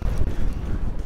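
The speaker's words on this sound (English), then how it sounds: "We apologize for the wind." Steady low rumbling wind buffeting the microphone, loud and continuous throughout, with no other clear sounds.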